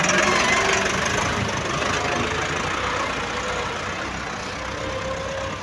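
A Massey Ferguson 240 tractor hauling a loaded trolley strains hard under load, its engine a dense, loud, continuous roar that eases slightly over a few seconds.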